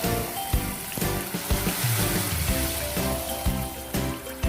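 Tap water runs steadily while hard-boiled eggs, cooked twelve minutes in vinegared water and cooled in cold water, are peeled under the stream; a continuous close trickle and splash with small irregular knocks throughout, and no talking.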